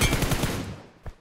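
Rapid automatic gunfire in PUBG Mobile, a quick burst of about six close, loud shots followed by a brief pause and one more sharp report.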